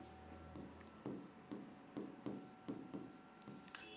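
Pen writing Hindi synonyms on paper, heard as a run of scratchy strokes in repeated bursts about every half second, close and fairly quiet, with no one talking.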